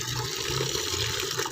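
Water runs from a tap into a large bucket in a steady, full splashing rush that is close and constant, with no talking.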